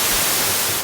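Arturia Minibrute synthesizer producing white noise, a loud, steady, full-band hiss that holds unchanged for under a second, alone.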